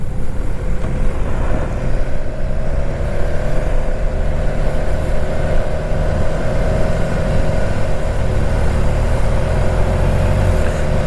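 A 2019 BMW S1000XR motorcycle with a quick shifter on a demo ride, its engine droning steadily and loudly throughout with strong low rumble and wind noise, no voices over it.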